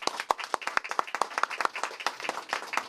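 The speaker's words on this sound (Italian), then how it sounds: "Ancora un applauso." A small audience claps at a live Italian stage show, the individual claps distinct and close, falling in an uneven rhythm that is strong at first and then loosens and thins.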